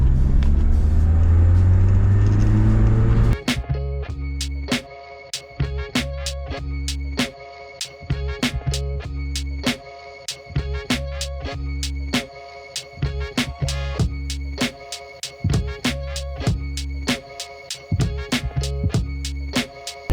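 Mazda MX-5 sports car idling after being brought back to running order, a loud steady engine rumble that stays close and constant, with a burst of louder revving at the very start and no talk.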